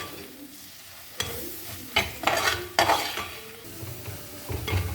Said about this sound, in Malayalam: ഇത് നന്നായി ഇളക്കി കൊടുക്കുക അതിൻ്റെ മുളക് ഒരു പച്ച മണം മാറുന്ന വരെ നന്നായി എണ്ണയിൽ വഴറ്റി എടുക്കണം